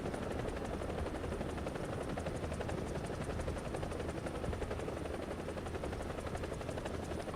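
AH-1G attack helicopter in the War Thunder video game, a continuous rotor thrum and turbine whine held at an even, steady level with no speech.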